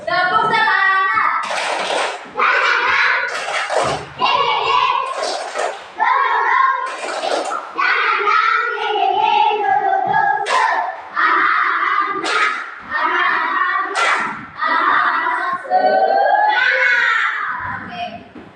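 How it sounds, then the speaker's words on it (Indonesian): Children in a classroom clap a quick rhythmic 'tepuk semangat' chant in unison, sharp claps punctuating loud shouted chanting voices throughout, close and energetic. "Tepuk semangat."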